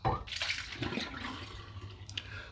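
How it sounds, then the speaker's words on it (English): Leftover water is poured into a shaving bowl for lathering soap, giving a short splash and trickle close by that settles into faint dripping, with a little talk nearby. "then we're going to just put the residual water right in the bowl"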